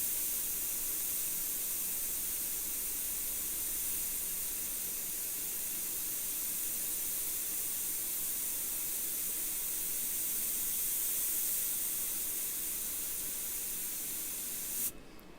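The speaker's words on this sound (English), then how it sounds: "This is where if the airbrush spits, it's going to be really noticeable" An airbrush sprays paint in a continuous, even hiss that holds steady and close for the whole stretch, cutting off abruptly just before the end.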